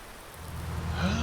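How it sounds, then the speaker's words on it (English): Steady rain pattering on surfaces outdoors in mid-autumn, a dense, even hiss of drops with a low rumble building toward the end, no voices present. "if the rain stops"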